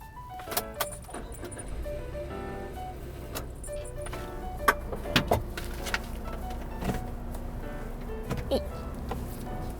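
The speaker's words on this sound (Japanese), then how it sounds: "それじゃあせっかくだから運転もしてみますか。" A used kei van, fully custom-fitted inside for a tour around Japan, has keys jangling, clicks and cabin thumps as it gets ready to drive off, over a low engine hum.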